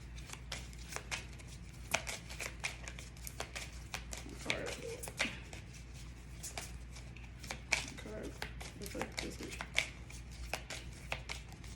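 Rapid crisp riffling and flicking of cards continues throughout, close and fairly quiet, with a faint voice murmuring underneath.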